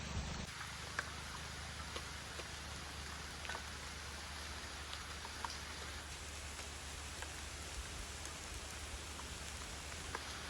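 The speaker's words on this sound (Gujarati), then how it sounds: "વરસાદ ચાલુ થાય ત્રીજી વાર સ્ટેશન કર્યું" Steady rain falls on a roadside during a trip to a police station, a dense, even patter with scattered distinct drop hits, quiet and continuous with no talk.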